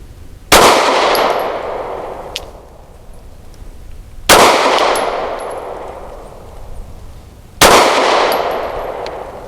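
Kimber R7 Mako pistol firing Igman 115 grain European-made range ammunition at an outdoor range: three loud, sharp shots spaced a few seconds apart, each followed by a ringing decay.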